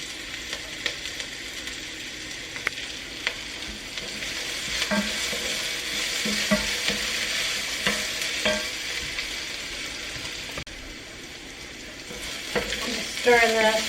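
Food sautés in a pan with a continuous soft sizzle, broken by scraping clicks and knocks as a utensil stirs it, with no talking.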